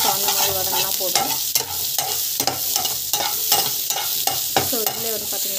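Fennel and cumin seeds sautéing in hot oil in a pan, a loud, close sizzle broken by repeated scraping strokes of a spatula in a steady stirring rhythm, with no talking.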